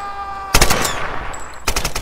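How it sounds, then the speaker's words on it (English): Shotgun blasts in the Tomb Raider video game: two loud, sharp bursts about a second apart, each with a short ringing tail and clatter between them, heard alone without speech. "Oh, that's a shotgun."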